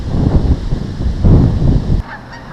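Geese honk beside a New Jersey park pond on a cold day, a dense, rough run of calls over low wind rumble for about two seconds before dropping away to quieter background.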